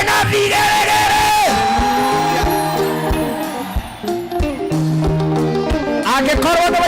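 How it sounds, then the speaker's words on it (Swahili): A church congregation at a Sunday service in Kahawa West cheers, yells and ululates loudly, the sustained voices rising and falling together with music-like tones underneath throughout. "shangwe na vigelegele."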